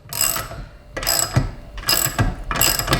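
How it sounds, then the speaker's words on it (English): A DeWalt cordless ratchet tightens a bolt clamped in a vise, giving four short, loud bursts of mechanical ratcheting whir with brief pauses between them, close up and with no talking. "And then we're just gonna tighten the hell out of this bolt."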